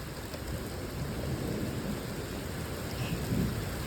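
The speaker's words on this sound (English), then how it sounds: "Feels like the rain died down a little bit." Heavy rain pours during a severe thunderstorm, a dense steady hiss with a low rumble of thunder underneath, loud and continuous with a slight swell near the end.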